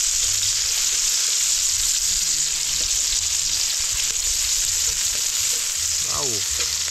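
Garlic and onion hit a hot pan and fry with a loud, continuous hiss and sizzle, close up, with a faint voice briefly heard near the end.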